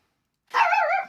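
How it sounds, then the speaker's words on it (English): A dog in the background lets out a single sustained, wavering cry, a bark drawn into a whine, arriving after half a second of silence, fairly loud and alone. "Oh, excuse my dog in the background."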